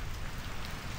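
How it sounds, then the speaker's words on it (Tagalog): Steady rain falls all around outdoors, a dense, even hiss of drops on surfaces, fairly soft and unbroken for a brief moment with no voices. "Umulan na naman."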